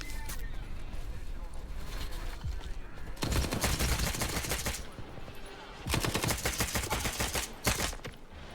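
Automatic gunfire in S.T.A.L.K.E.R. 2 rattles in two loud sustained bursts of rapid shots, with someone talking throughout the firefight.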